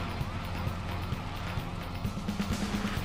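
A police car siren wails inside a video game, its rising and falling tone sitting in a dense mix of engine rumble and game noise that lasts throughout.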